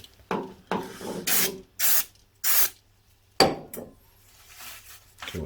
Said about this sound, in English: We'll get you some brake cleaner.